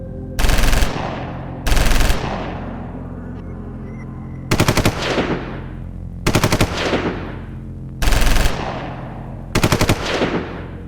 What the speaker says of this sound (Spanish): Ordené el ataque. Todos los marinos dispararon.